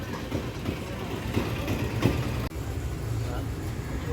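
A bus engine rumbles steadily with surrounding road traffic while passengers board near Angamaly railway station in Kerala, bound for Malayattoor. The drone stays close and constant, with a brief dip midway.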